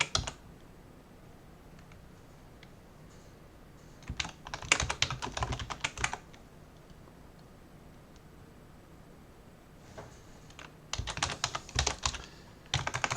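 Fast typing on a computer keyboard at a desk while coding, in two bursts of rapid close key clicks separated by a pause with only faint scattered taps, no talking.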